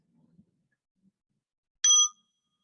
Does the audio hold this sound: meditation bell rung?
yes